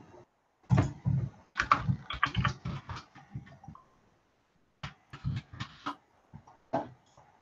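Fingers type on a computer keyboard in close, crisp bursts of rapid key clicks, broken by a pause of a second or so before another flurry of tapping resumes.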